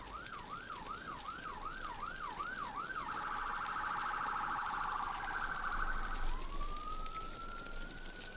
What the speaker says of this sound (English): just wait for the sirens to go past